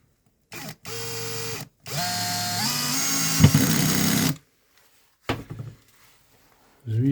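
A Milwaukee drill-driver fitted with a PH2 bit drives a screw in short bursts. It gives a whining motor hum that drops in pitch under load, then stops, and a brief final burst follows. The sound is close and loud.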